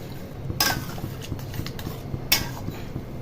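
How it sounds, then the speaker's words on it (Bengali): A spoon scrapes and clinks against a cooking pot as dal is stirred into a spiced masala with added water for dhaba-style tadka, a few sharp metallic knocks over a quiet kitchen background. "ডালটাকে মিলিয়ে নিচ্ছি।"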